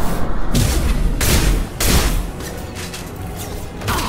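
Incendiary rounds fired in a Mass Effect 2 battle, with loud, dense bursts of gunfire and booming impacts coming in several heavy surges over a constant mechanical rumble.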